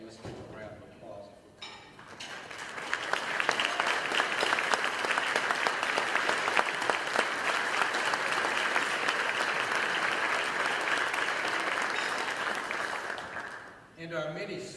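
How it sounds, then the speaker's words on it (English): Audience at a mayor's State of the City address applauding city employees, applause swelling in after a brief moment, holding as a dense, even roar of many hands, then tapering off at the end. "let's give them a round of applause"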